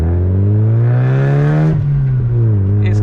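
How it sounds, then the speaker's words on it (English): A Mazda MX-5 MK2 pulls hard in first gear. The loud engine and exhaust note rises steadily, then drops sharply as the revs fall off near the end. "It's quite loud, that's first gear."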